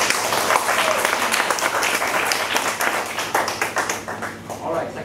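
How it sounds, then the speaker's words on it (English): A crowd at a school alumni reunion hi-tea applauding steadily and fairly loudly for several seconds, with dense overlapping claps and a few voices mixed in. "I think we should really give a round of applause to Linda."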